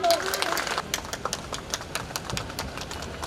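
A college of education audience in Jhansi claps unevenly: scattered, sharp individual hand claps with gaps between, mixed with a voice speaking at the start and crowd murmur underneath.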